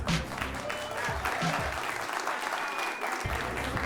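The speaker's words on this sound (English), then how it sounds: "Round of applause for our next quarterfinalists." A crowd at a Clash Royale tournament in Helsinki applauds the quarterfinalists, a steady wash of clapping with some low thumps and a voice speaking over it early on.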